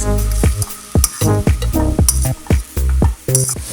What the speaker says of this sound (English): That's sauteing down really good, so I'm going to go ahead and add my tomatoes.